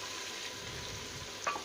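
Spice masala for rajma sizzles steadily in a pan while being stirred, a soft continuous frying hiss with gentle scraping and a brief clink of the spoon near the end.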